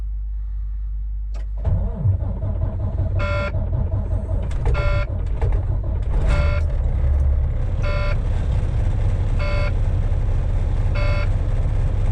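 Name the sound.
truck pressure alarm beeping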